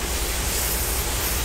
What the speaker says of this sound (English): I'm going to go ahead and give that another 10 second spraying.